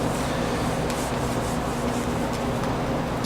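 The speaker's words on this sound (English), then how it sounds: "so I can get in there and I can wipe stuff out" A cloth wipes the stainless steel interior of an Alto-Shaam combo oven, making a continuous close rubbing and scrubbing noise at a steady loudness with no pauses and no talk.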